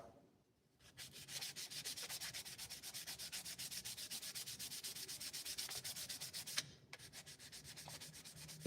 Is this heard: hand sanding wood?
yes